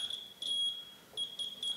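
A PlayStation 2 Slim console under repair emits high, steady electronic beeps in short repeated bursts with brief gaps, clear and close with no talking.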